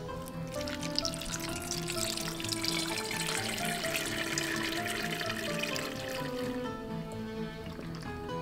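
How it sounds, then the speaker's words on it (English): Broth from pressure-cooked London broil meat is strained off, a continuous liquid pour and splash running steadily at moderate loudness for several seconds, with no talking. "So we're going to strain off"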